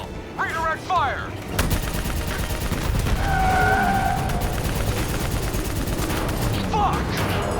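Sustained gunfire in Call of Duty Black Ops 3 rattles in dense automatic bursts over a battle soundscape, with shouted voices and a sharp blast partway through.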